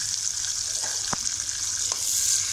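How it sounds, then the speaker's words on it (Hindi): Tomato paste fries with spices in a pan for biryani, a steady close hiss and sizzle with a couple of faint stirring scrapes. "2 मिनट के लिए भून लेंगे।"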